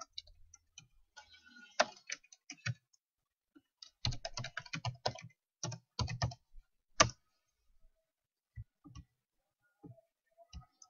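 Keys clatter on a computer keyboard while text goes into Excel table cells, in quick bursts of clicks with short pauses between them, close and fairly quiet, with no voices.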